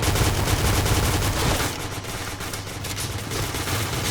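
A legendary 100-round machine gun in the video game Point Blank fires in a loud, close, unbroken stream of rapid shots, dipping slightly midway before continuing.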